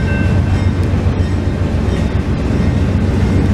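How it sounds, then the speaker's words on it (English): A mixed freight train rumbles past very close and loud at a railside spot in Folkston, Florida, with heavy continuous low roar and rattling wheel clatter. "Here goes the mixed freight."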